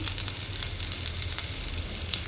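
Green chillies and cumin seeds fry in a spoonful of hot oil, giving a steady, close sizzle with light crackles and no talking.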